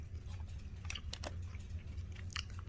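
Someone eats a quesadilla, a few soft crunchy bites and chewing sounds standing out close over a steady low background hum, with no talking.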